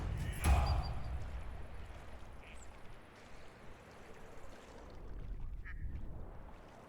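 A duck quacks in the video game Medieval Dynasty, with one sharp call near the start over a soft, continuous watery ambience that fades slightly before swelling again.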